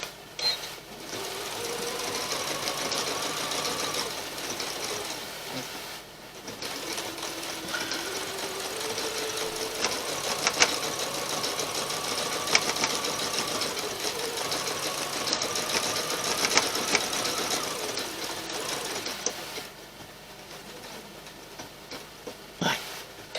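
A sewing machine stitches appliqué on a Valentine table runner with a steady, rapid mechanical whir and needle chatter, close and continuous, with a few brief pauses and shifts in speed.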